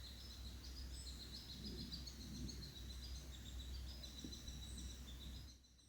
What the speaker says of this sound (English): You hear that little peep peep peeping?